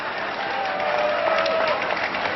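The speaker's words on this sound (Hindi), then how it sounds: "तालियां बजाइए" Audience applause at a public political gathering in Mauranipur, a steady broad clapping wash that holds at an even level from start to end with voices faintly mixed in.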